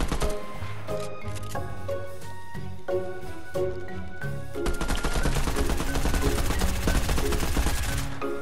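Gunshots in a video game firefight: rapid sharp reports and bursts of automatic fire, loud and close, layered over a ringing tonal backdrop that intensifies in the second half.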